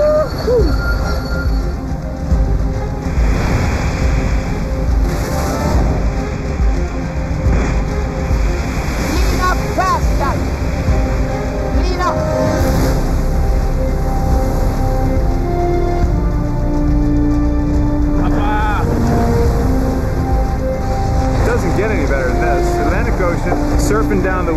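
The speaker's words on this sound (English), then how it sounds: "Surfing down the waves, boat that handles like a dream in this stuff." Steady roaring wash of water and wind as a racing sailing yacht surfs down ocean waves, loud and continuous, with occasional voices underneath.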